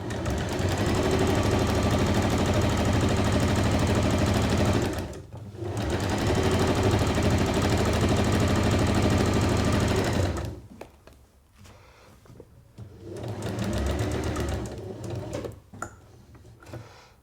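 A sewing machine runs at high speed stitching a petal drawstring bag, loud continuous whirring in long bursts with a short pause, then quieter fabric handling before a final run.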